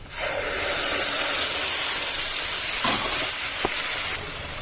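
Spice paste for a bata fish curry with potato and aubergine sizzles hard in hot oil, a loud, steady hiss throughout with a couple of brief scraping touches near the end.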